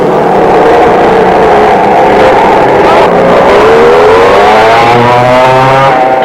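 McCulloch-engined racing karts roar around a 1961 Grand Prix circuit, a loud continuous buzzing drone with engine pitch rising and falling as karts accelerate and pass close by.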